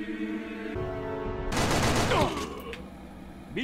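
Video game gunfire erupts in a dense, loud burst of rapid shots lasting about a second, with a tonal hum beforehand and rattling debris fading out after.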